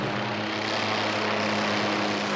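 Military helicopter in flight over a cold northern war zone in the 1981 anime Dougram, a steady droning rotor and engine hum with a sustained low tone, continuous and fairly loud throughout with no voices.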